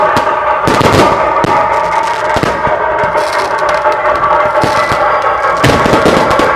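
Fireworks crackle and bang continuously at the Gangaiamman temple festival, dense overlapping pops with a few louder bursts standing out, loud and close throughout.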